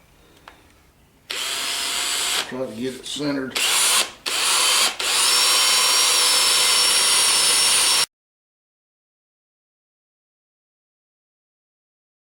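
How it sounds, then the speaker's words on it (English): Power drill boring out seized bolts on a Kuhn mower during a rebuild, loud and steady with brief stops and restarts, near; a voice speaks briefly over it. "we're going to get started by drilling out these two"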